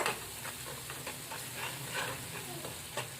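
A spoon stirs a spiced mixture with turmeric and chilli powder in a hot pan, soft repeated scraping strokes over a steady low sizzle, close and quiet.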